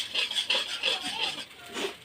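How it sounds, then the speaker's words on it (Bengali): A spice paste of turmeric, chili powder, ground coriander, salt and a little water is stirred and fried in a pan for doi katla, making quiet, rhythmic rasping scrapes of a spoon against the pan. "এই মশলাটা ভালো করে কষিয়ে নেব।"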